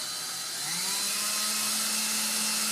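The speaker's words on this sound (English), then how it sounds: "I'm going to take my drill now, and I'm going to drill down into those holes," A power drill spins up and bores through the layered shell of a Stormtrooper helmet, a loud, close, steady whine that rises in pitch as the motor reaches speed and holds there.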